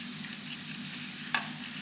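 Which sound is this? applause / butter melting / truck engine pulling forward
butter melting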